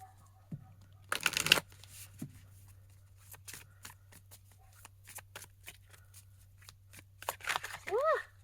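Quiet brushing and riffling of tarot cards being shuffled, with a brief louder burst of shuffling and soft intermittent taps, plus a short voiced sound near the end.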